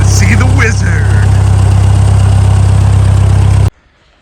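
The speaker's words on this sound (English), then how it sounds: "ready to go for a little drive with the tractor" A Ford 9N tractor engine idles loud and close with a steady low rumble and thumping, a few brief voices over it before it cuts off abruptly near the end.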